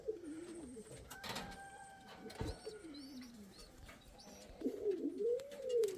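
Indian Fantail pigeons cooing close by, several soft rolling coos in sequence with a louder, more wavering run of cooing near the end, with faint chirps around them.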